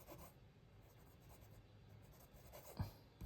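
A medium-nib Wingsung (Junlai) 930 fountain pen scratches softly across paper in a quiet, continuous rub with a couple of small taps near the end, very close and faint.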